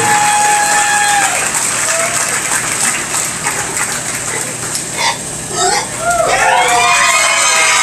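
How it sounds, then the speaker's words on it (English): A crowd at a swine show claps and cheers loudly and continuously, with a few whistles and shouts rising over the steady applause. "Give them a big round of applause."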